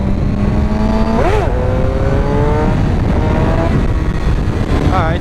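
A Suzuki GSX-R 750 sport motorcycle's engine roars loud and close while riding, revving up to about 7,000 RPM in second gear, with rising and falling pitch sweeps over a steady, dense engine drone.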